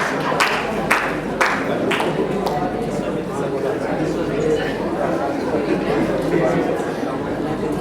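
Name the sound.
wedding guests clapping for gift bearers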